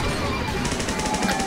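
Rapid automatic gunfire from a Roblox Arsenal match, a continuous burst of dense repeating shots throughout, loud and close, with no voices.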